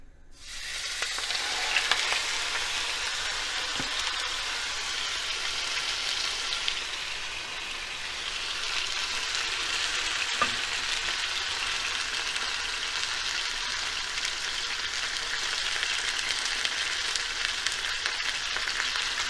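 A 3-pound chuck steak searing in hot oil in a pan, a loud steady sizzle that starts abruptly and holds continuously, with a couple of faint clinks partway through and no talking.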